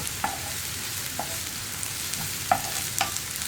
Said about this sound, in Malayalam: ഇനി ഇതിൻ്റെയും കൂടി ആ ഒരു റോ സ്മെല്ല് മാറി വരുന്നത് വരെ നമ്മളൊന്ന് ഇളക്കി കൊടുക്കുക.